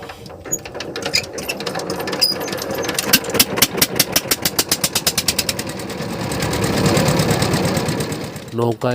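A boat engine runs on the Padma river, its close, steady mechanical chugging pulsing rhythmically and swelling louder toward the end.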